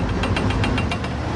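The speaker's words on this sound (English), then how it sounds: "Well, yes, somehow the engine rattled" A boat engine on a remote Pacific island, running rough with a rapid rhythmic knocking and pounding, loud and close, with a steady low rumble underneath and no talking.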